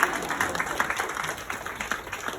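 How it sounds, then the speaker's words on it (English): An audience at a coaching summit in Bangalore claps for the event photographer, a steady wash of many hands at moderate volume that holds level throughout, with a few louder bursts standing out. "Can we clap for the photographer?"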